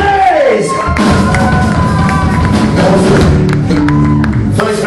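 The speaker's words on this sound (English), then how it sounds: "I hear a huge round of applause for our wonderful mates" A crowd at a live gig in Oswestry cheers, whoops and applauds loudly and close by, with shouts and yells scattered through the noise.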